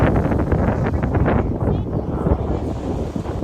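Steady wind gusts buffet the microphone on the beach at Lakeview Park in Lorain, Ohio, a loud continuous rush with a faint hint of lake water underneath.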